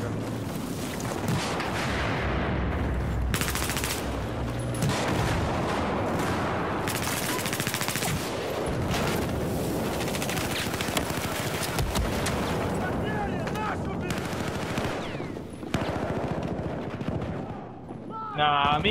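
Rapid bursts of gunfire crackle almost continuously in Battlefield 4, with loud impacts and scattered shots layered over busy game noise and occasional voices.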